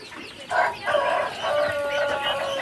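Black Australorp rooster crowing nearby, a single drawn-out crow rising and then held steady to the end, with other chickens clucking faintly around it.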